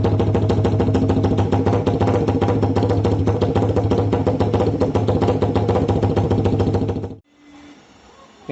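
A Suzuki GSX 150 motorcycle engine runs loud and close with only an elbow pipe and no muffler, giving a raw, steady, rapid-firing idle that cuts off abruptly near the end, leaving a faint tick.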